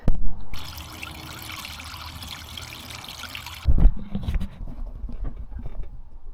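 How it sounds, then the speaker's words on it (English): Fluid poured into a truck during a repair, a steady trickling pour lasting several seconds that stops abruptly, followed by a few louder clunks and handling noises. "All right, let's pour some more."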